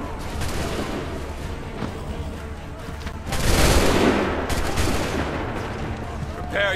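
Gunfire volley in Assassin's Creed III, with dense overlapping musket shots rolling into a louder burst midway, crowded battle noise underneath and a voice faintly audible.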